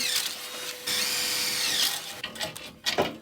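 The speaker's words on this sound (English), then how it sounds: "I just drilled down into the wood and used 2 bolts to hold the wood to the frame." A power drill boring down into wood while building a frame on a kids' ride-on power wheel, heard as a steady close whine lasting about a second, then shorter uneven bursts as the bit bites in.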